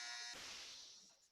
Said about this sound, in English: sorry about the buzz. It's my alarm for my dryer